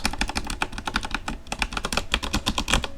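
Keys clatter on a Corsair mechanical keyboard with red switches as it is handled during cleaning, a dense run of close, sharp plastic clicks and taps in an uneven typing-like rhythm with no talk.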